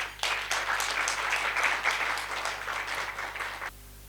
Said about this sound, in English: Dear friends, help me appreciate them by giving them an applause.